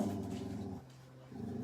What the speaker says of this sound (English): Now somebody is barking back, or is it another dog?